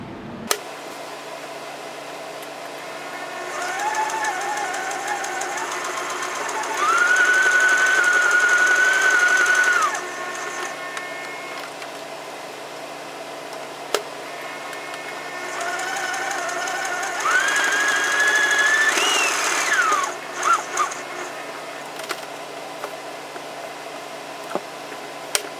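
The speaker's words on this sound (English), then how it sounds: "with your sewing machine, you'll run a stitch around the perimeter of this" A sewing machine stitches around the edge of a face mask made from a T-shirt sleeve, whirring in two sustained runs of a few seconds each, separated by quieter pauses and small clicks, with no voices.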